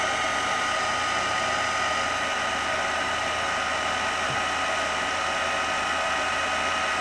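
Heat gun blowing steadily at close range, a constant loud rushing hiss with a low hum beneath, unbroken throughout with no talk.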